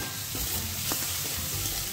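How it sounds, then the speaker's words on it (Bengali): Chopped onions and whole onions frying in hot mustard oil with panch phoron, a steady close sizzle with a few faint stirring scrapes, no voices. "পেঁয়াজটাকে লাল করে ভেজে নিয়ে"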